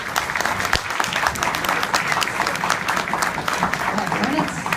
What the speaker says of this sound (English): Go ahead and stand up and receive your applause.